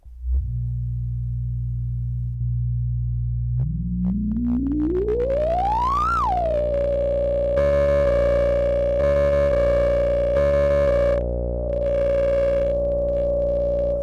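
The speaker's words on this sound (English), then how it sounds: "You get loads of weird distortion when you turn that up." A harsh, buzzing synth tone from a Behringer Kobol Expander with high resonance, the filter sweeping upward into a squealing peak, then settling into a gritty, distorted sustained drone.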